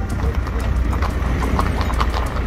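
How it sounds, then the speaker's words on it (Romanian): Loose horses galloping on city streets among cars in Dej, Romania, a quick, steady run of hoofbeats on pavement under a voice talking, ending in a sudden loud burst. "la Dej mai mulți cai se plimbă nestingherițe aproape în fiecare zi printre mașini. Și nu oricum, ci la galop pe străzi."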